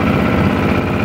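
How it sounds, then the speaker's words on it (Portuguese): A speedboat engine on the Amazon river drones steadily, a loud continuous low motor hum with no pauses. "A lancha tá vindo bem, né? E agora a lancha vai passar por a gente."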